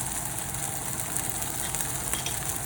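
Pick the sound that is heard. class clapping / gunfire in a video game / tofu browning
tofu browning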